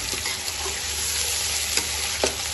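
Meat and onions frying in a pan, a steady close sizzle with a few soft scraping stirs, with no talking over it.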